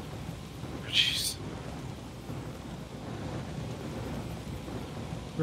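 A storm in the video game Astroneer, with a low, steady rumble of wind and weather filling the whole stretch and a brief hissing gust or crackle near the start.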